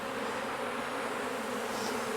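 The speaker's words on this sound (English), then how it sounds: "Here's a good peek for you inside this box. I'm looking for the queen in that. Lots of bees." Honeybees buzzing inside an open hive box in an apiary in Jacksonville, Florida, a steady, dense, close drone of many bees humming together without pause.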